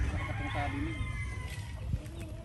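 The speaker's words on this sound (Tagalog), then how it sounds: "So diri ni tanan manok ikulong." A rooster crows faintly amid soft clucking from nearby chickens in a poultry enclosure, quiet and somewhat distant.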